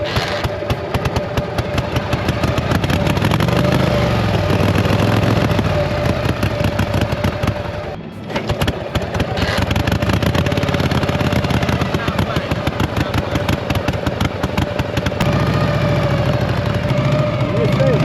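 A 1955 Harley-Davidson FL Panhead motorcycle engine runs loud and close with a rapid, uneven popping exhaust beat, revving and briefly dropping midway before picking up again, with voices talking over it.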